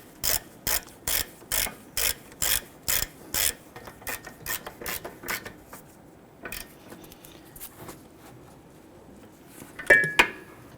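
A ratchet snugging brake caliper bolts on a 1999-2004 Jeep Grand Cherokee, a rapid, regular series of sharp clicks up close that slows and thins out, followed by a metallic clank near the end.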